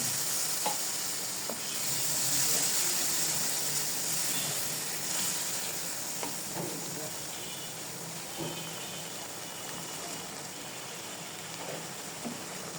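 Spice paste and prawns sizzle and fry in a pan for prawn malai curry, with soft stirring scrapes at intervals over a steady hiss, while a voice talks quietly in the background.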